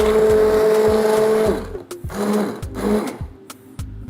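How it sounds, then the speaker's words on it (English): An immersion blender purees cooked asparagus for risotto in a container set on a towel, a loud whirring motor that runs steadily, then pulses and surges in short bursts as the pitch dips and rises. "I just have an immersion blender handy"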